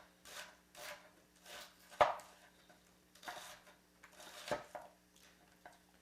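Knife chopping fresh onions on a board for a nonna's three-cheese lasagne, a series of soft, evenly spaced cuts with a couple of sharper knocks against the board, quiet and close.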